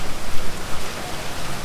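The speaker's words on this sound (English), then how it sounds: "When the rain is just terrible, I am soaked through, absolutely soaked through." Heavy rain falling outdoors during freshwater fishing in Thailand, a loud, steady, dense hiss of drops with no other sounds.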